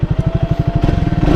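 A Triumph Thruxton 400 motorcycle engine runs loud and close, a steady, fast thumping pulse that quickens slightly toward the end.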